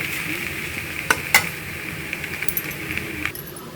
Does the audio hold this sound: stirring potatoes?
yes